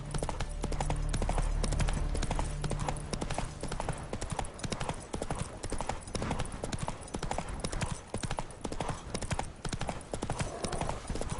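Roach, the horse in The Witcher video game, gallops in a steady, dense rhythm of clip-clopping hooves close up and loud throughout, with brief game voices and ambient sound mixed in.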